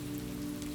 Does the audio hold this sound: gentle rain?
yes